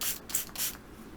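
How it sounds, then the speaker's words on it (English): A spray bottle gives a few short, close hissing bursts during handwashing, quiet and separated by brief gaps. "I've got my spray here."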